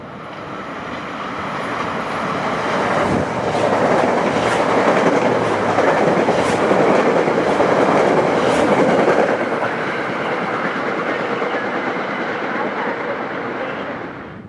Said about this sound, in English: Coming next is an old Budd M3 electric set built in the 1980s due to be retired soon, heading for Croton.